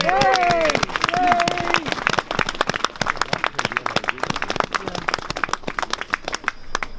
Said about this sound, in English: please give a big round of applause and appreciation for Helen McElroy